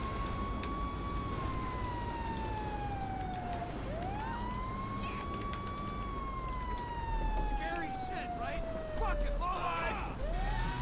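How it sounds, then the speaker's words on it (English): Fire engine siren in GTA V wailing in long rising and falling sweeps, loud and close, over engine and traffic rumble, with no speech. "I've got a fire engine."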